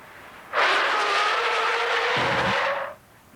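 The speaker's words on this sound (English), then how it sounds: "From the time I began braking, it took an extra car length to completely stop the car" Car braking hard from 45 mph on underinflated tires, a loud sustained tire squeal lasting about two and a half seconds, ending with a brief low thump as the car stops.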